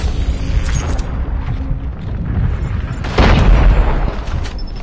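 In Call of Duty Mobile, an enemy sentry gun is destroyed in a loud explosion with a deep boom near the end, over continuous rumbling battle noise.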